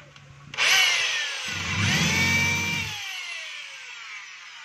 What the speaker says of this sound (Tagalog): So wala pong problema sa drill niya mga kabay, okay naman.